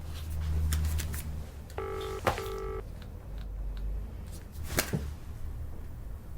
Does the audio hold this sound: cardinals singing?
no